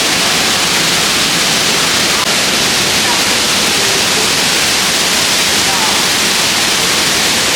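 A loud, steady roar of a waterfall echoing inside a cave in Bali, broadband rushing water filling the space continuously without pause.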